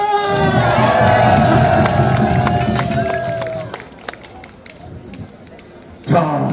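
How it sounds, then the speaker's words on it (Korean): A crowd at a traditional wrestling-style strength contest in Jeonju Hanok Village cheers and shouts loudly, voices rising in a long swell before fading, with scattered claps and a burst of noise near the end. "박수와 함성!"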